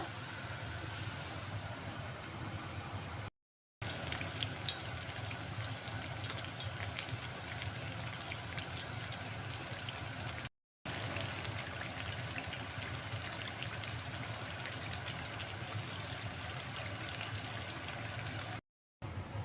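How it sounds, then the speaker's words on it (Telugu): Water heating in a pot on the stove for a spiced rice dish, giving a steady, even hiss and faint bubbling throughout, with a few brief dropouts. "ఇక్కడైతే తిరువాత అన్నానికి నీళ్ళు అయితే కాగుతున్నాయి అన్నమాట, వేడవుతున్నాయి."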